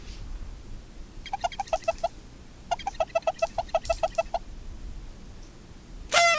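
A live bird clucks in two quick runs of evenly spaced clucks, close and distinct over a quiet background, ending in one louder sharp squawk.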